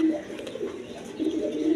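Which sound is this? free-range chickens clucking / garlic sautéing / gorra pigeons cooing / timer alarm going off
gorra pigeons cooing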